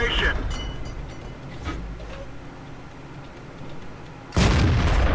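A tank cannon fires in a video game, with a low mechanical rumble followed by a sudden loud blast near the end.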